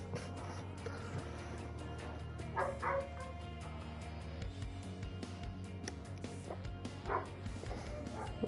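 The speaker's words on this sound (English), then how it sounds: "A German Shepherd dog barking at something." A German Shepherd dog barks in a few short bursts somewhere beneath a steady, dense bed of video game racing engine noise, the barks moderately distant and partly masked.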